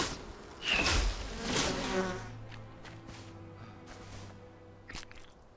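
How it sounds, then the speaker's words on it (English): Bees buzz in the Enshrouded video game, a steady insect hum that whines close over a continuous background, with brief louder swells early on. "Weren't we supposed to get attacked by bees over here?"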